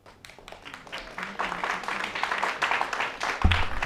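Audience applause at a board of directors meeting, a steady wash of many hands clapping that builds over a few seconds, with a thump near the end.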